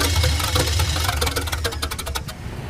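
Car engine on the Roadkill Boost Caboose cranking and catching, loud and rough with uneven knocking pulses that falter without settling into a steady run.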